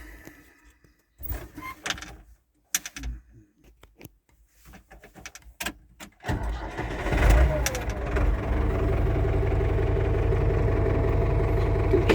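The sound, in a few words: tractor engine starting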